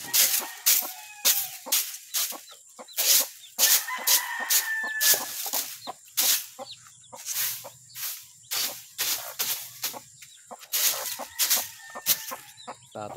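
Chickens clucking steadily in a coop while a rooster crows repeatedly nearby, the calls loud and close with no talk over them.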